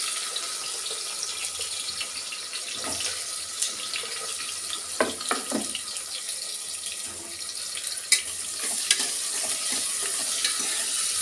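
Onions tipped into hot oil for chicken biryani, a steady loud sizzle and crackle with stirring scrapes in the pan, close by with no talk.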